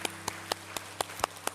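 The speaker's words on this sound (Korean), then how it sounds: "환영의 박수 함께 나누도록 하겠습니다." Congregation at a Sunday worship service clapping in welcome, sharp evenly spaced claps about four per second, moderately loud over a low background hum.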